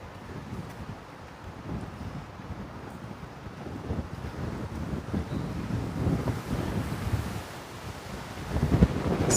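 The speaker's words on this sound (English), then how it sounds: "Whoa, it's windy." Strong wind gusts across York University's campus in Toronto and buffets the microphone, making a continuous loud rumbling roar that swells and peaks toward the end, with no speech.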